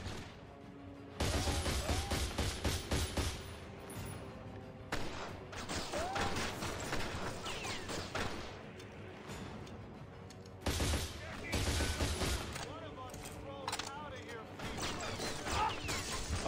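Gunfire in The Darkness comes in loud, dense bursts of rapid shots separated by quieter gaps, with a voice talking now and then between volleys.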